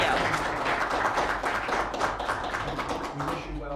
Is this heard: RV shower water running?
no